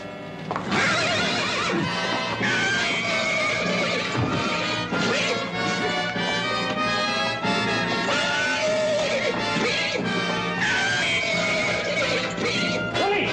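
Loud horse whinnies ring out repeatedly over dramatic music, with crashing impacts and hoofbeats mixed in.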